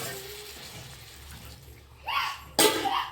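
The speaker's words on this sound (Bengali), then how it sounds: "এবার দিয়ে দেবো আমি গরম জল। গরম জল রেডি করেছি, এই গরম জল দিয়ে দেবো।" Hot water poured into fried spice masala in a pan while cooking jackfruit keema, giving a short sizzling splash that rises suddenly near the end after a quiet stretch of background noise.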